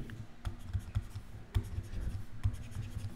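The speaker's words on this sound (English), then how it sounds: "So you write down, instead of AB," Pen or marker writing out a trigonometry math solution, with short scratchy strokes and taps in an irregular rhythm, close and fairly quiet, with no talking.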